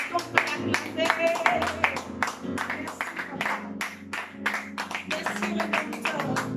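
Church congregation clapping in acclamation during a praise and worship service, brisk sharp claps in an uneven rhythm over music with sustained tones, moderately loud and close.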